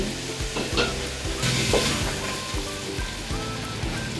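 Pork sizzling with mung beans in a pan, steady frying hiss broken by scraping stirs and clanks of a utensil, close and moderately loud with no talking.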